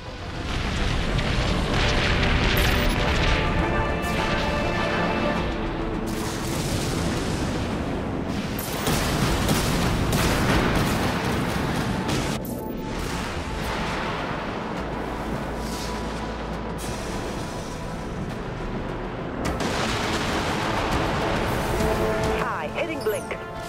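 Heavy explosions rumble as a warship takes damage in the space combat game Dreadnought, with loud, continuous booming and impacts and game voice announcements over the top.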